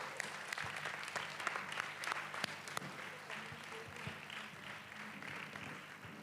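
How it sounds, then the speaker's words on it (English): An audience at a district Christmas celebration breaks into sustained applause, a dense, fairly distant patter of many hands clapping that holds steady for several seconds and fades slightly at the end. "Can we have a huge round of applause, please?"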